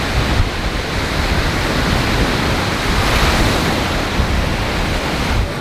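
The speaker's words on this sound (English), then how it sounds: "We've been here on the beach for a while, really good time." Ocean waves wash continuously onto a beach in Mexico, a loud, dense, unbroken surf rush with faint wind, with no voices in the clip.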